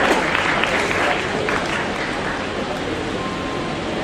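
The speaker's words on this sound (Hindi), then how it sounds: "भरपूर तालियां होना चाहिए" A crowd at a naat competition final applauds with dense, steady clapping that stays loud and close. The applause tapers slightly toward the end, with faint voices underneath.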